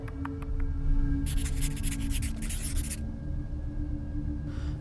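A raven in the video game Oknytt clacks its beak: a few quick dry clicks, then a scratchy rattling burst over a steady low ambient hum, with no talking.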